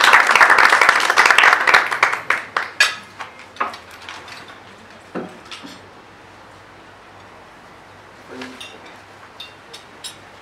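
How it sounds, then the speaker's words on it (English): Audience applause at a press club luncheon, a dense burst of clapping that thins out into scattered claps and fades, followed by a few faint clinks and knocks in a quiet room. "Another round of applause"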